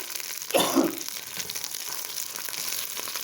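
Hot oil sizzles in a pan while a Kanem Bornu vegetarian dish is cooked, with a brief louder crackle at the start and then a steady, faint frying hiss.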